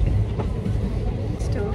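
Steady low rumble of a moving train from inside a carriage, a continuous rolling drone with faint rhythmic rattling as people talk nearby.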